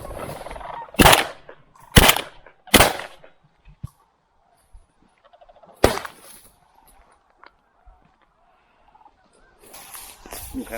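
Shotgun blasts during a waterfowl hunt on a Saskatchewan wetland: three sharp close reports about a second apart, then a fourth after a pause, with quiet gaps and faint rustling between them outdoors.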